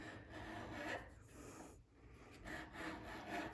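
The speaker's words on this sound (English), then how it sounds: "Now I'll file this right here down" A metal hand file rasping down a rounded wooden detail in slow, steady strokes, a dry scraping that repeats several times up close with a brief pause in the middle.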